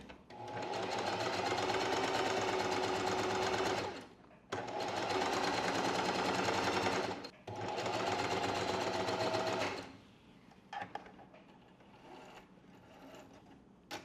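A sewing machine runs a long straight basting stitch for sleeve ruffles in three loud, steady bursts of rapid whirring, with short pauses between them, followed by quieter clicks and handling noises.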